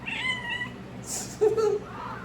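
A domestic cat meows once at moderate level midway through, a short rising-then-falling call over a faint room background.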